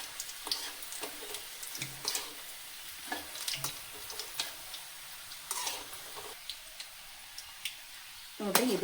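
Bun kebabs fry in a pan with a soft steady sizzle, broken by scraping stirs and the occasional clatter, ending in a louder utensil knock.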